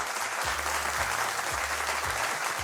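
An audience claps for a children's singer on a Kurdish TV show, a dense, even applause throughout with light music underneath.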